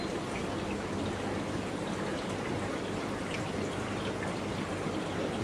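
Water runs through an aquaponics system driven by pumps, giving a steady, even rushing and trickling wash with no breaks and no voices.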